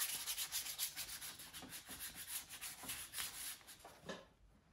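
Sandpaper rubs rhythmically over a carved cedar wooden decoy in quick back-and-forth strokes, close and fairly quiet, then stops near the end.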